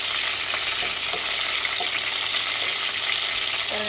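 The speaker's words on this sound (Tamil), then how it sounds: "சுண்டைக்காய் கொஞ்சம் போட்டோன்னா கொஞ்சம் எண்ணெயில் தெரிக்கும்." Turkey berries fry in hot oil with a close, constant sizzling hiss scattered with small spluttering pops, with no talk over it.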